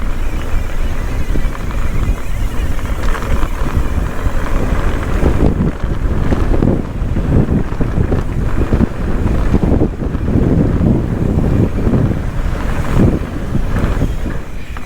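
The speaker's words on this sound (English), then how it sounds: "Windy." Strong gusting wind buffeting the microphone outdoors on a mountain bike ride near a desert mosque, a loud continuous roar with surging gusts and no talk.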